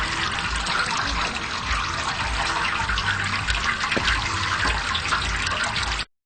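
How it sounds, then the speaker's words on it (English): Starch liquid pours steadily through a basket sieve into a drum, a continuous close splashing trickle of moderate loudness that cuts off abruptly at the end. "And now we are sieving it through a basket."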